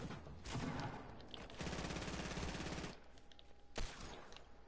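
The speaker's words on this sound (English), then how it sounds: "Dude, stop shooting at him, Lawton!" Rapid automatic gunfire from a PS4 shooter game crackles in dense, loud bursts, followed by a quieter stretch and one sharp single shot.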